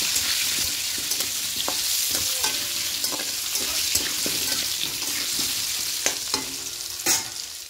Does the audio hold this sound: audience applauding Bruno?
no